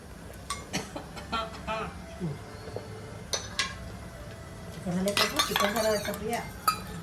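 A spoon stirs salt, red chili powder, asafoetida, turmeric, sesame seeds and ajwain into water in a steel pot, giving scattered metallic clinks and scrapes, with voices talking over the later part.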